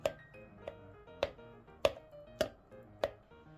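Sharp, regular thuds of a utensil mashing pumpkin with lemon in a pot, about six evenly spaced strikes, close and fairly quiet with no talking.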